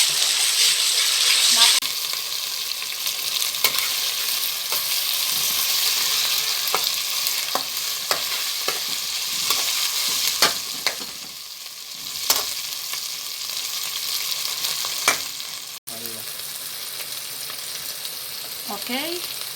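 Tomato paste fries in a pan for spaghetti sauce, giving a steady close sizzle broken by frequent scraping clicks of a stirring utensil, with no talking.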